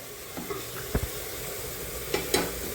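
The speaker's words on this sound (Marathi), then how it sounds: "आता ही छान परतून घेऊ आपण खोबरं" Grated coconut sautéed in a pan while cooking chicken sukka, a soft steady sizzle broken by a few sharp scraping stirs of a spatula, close and fairly quiet, with no voices.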